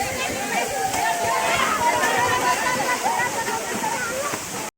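Rushing water from a waterfall roars steadily, with splashing and people's voices mixed in over the torrent.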